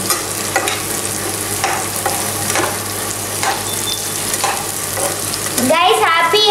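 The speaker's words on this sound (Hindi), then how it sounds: "अब हम इसमें आलू डाल देंगे और उनको भी अच्छे से मिक्स कर लेंगे" Potatoes are stirred into frying onion and tomato for kanda poha, a steady hiss of sizzling oil under regular scraping strokes of a spoon, with a brighter clatter near the end.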